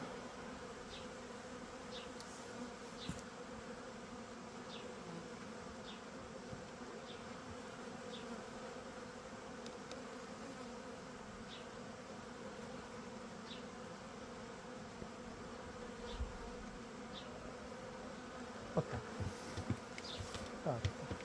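Honeybees buzz steadily around an open hive whose queen has filled the brood nest and which carries a recently added super, a dense continuous hum close by with faint individual bees passing, no talking.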